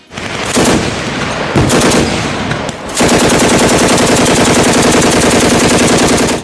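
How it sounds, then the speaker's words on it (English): Loud, rapid bursts from a DShK heavy machine gun, two short strings followed by a long sustained burst with a booming, echoing rattle. "The sound of the dishka is insane. It roars, loud, low, and echoing like a chain of explosions."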